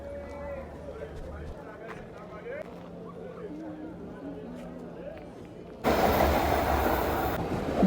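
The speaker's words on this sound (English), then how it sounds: "That train is coming from Mamelodi Gardens." A commuter train arriving at a station heard as a low rumble beneath station chatter, then a sudden loud broadband roar near the end as it pulls in close.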